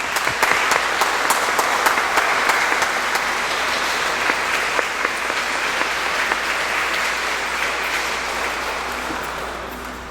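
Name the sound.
congregation applause for baptized children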